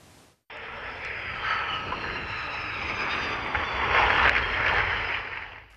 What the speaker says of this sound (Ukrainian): На цих кадрах бойовий літак МіГ-29 здійснює приземлення.